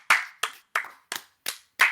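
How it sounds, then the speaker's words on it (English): Six sharp bursts of clapping from a small group of people, welcoming a podcast guest in a studio, spaced roughly a third of a second apart and close to the microphone with no talk over them. "let's clap it up for Joe Byron"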